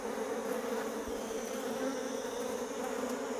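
Honey bees buzz steadily and densely at a hive weakened by varroa mites, a constant low drone filling the whole stretch with no talking.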